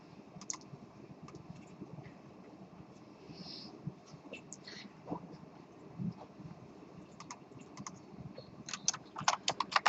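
Quiet, irregular keystrokes on a computer keyboard while code is typed in Python's IDLE during a programming lecture, ending in a faster, louder burst of clicks.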